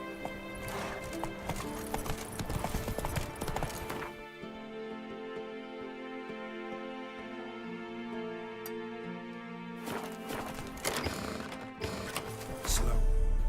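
Horse hooves clip-clop in The Witcher 3 video game, a steady galloping rhythm in two busy stretches at the start and end with a quieter, tonal music-filled lull between, plus a brief whinny-like sound.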